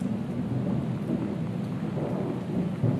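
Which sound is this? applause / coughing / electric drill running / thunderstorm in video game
thunderstorm in video game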